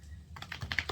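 A stiff, nearly new deck of tarot cards is shuffled by hand, giving a quick run of soft crisp clicks and slaps close by after a moment of near quiet, with no talking.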